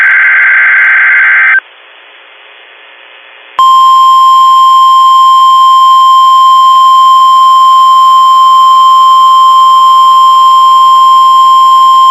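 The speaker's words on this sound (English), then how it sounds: "This has been a test of the NOAA All Hazards Weather Radio Alarm System." NOAA All Hazards Weather Radio alarm test: a loud high electronic tone, then a quieter gap, then a long steady piercing single-pitch tone that holds unbroken at full level.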